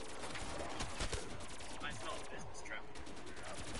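Rapid gunfire from the Black Ops 3 zombies video game, dense and continuous bursts of shots filling the clip at close range, with the weapon upgraded through pack-a-punch, alongside faint background game noise.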